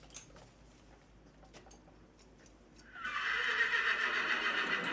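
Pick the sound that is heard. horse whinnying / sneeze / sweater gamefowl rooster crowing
horse whinnying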